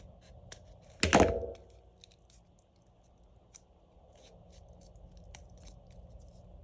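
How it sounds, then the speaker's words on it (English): A single sharp snip of scissors trimming excess material from a craft charm, close and brief, followed by quiet room noise. "let's just take some scissors and let's just trim off that excess."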